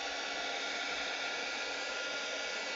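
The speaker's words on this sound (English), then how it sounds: "Hit it with the hairdryer." A hair dryer blows steadily at close range, drying acrylic paint, a continuous broadband whoosh with no breaks and no voices.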